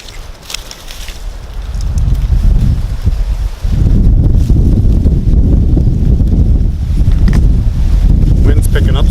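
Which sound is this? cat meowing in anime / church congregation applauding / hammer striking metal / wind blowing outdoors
wind blowing outdoors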